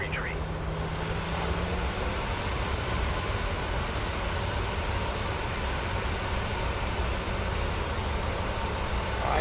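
A simulated airliner in Microsoft Flight Simulator 2024 rolls for takeoff, its jet engines holding a steady, dense roar that stays loud and unbroken throughout, with a faint rising whine near the start.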